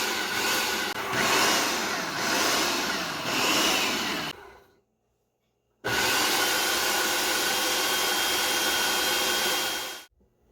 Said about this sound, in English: And then I'm going to let Joshua take over the buttons on the food processor again